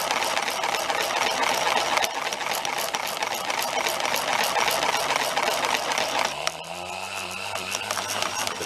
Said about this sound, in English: both motor coils are free to run, free to move around, and they just tend to go in the opposite direction of the rotor